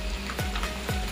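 Meatballs (bakso) and sausage sizzling in a pan with Indonesian fried rice, a steady close frying hiss broken by a few scraping stirs.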